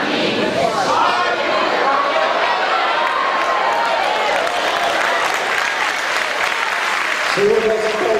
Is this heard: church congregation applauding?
yes